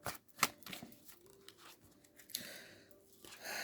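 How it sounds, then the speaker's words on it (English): Quiet riffling and soft slaps of tarot cards being shuffled by hand, with irregular flicks and rustles close to the mic. "I'm going to actually shuffle on camera."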